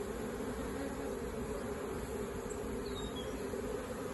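A swarm of bees hums around a bougainvillea in a steady, soft, continuous buzz with no break, heard outdoors alone.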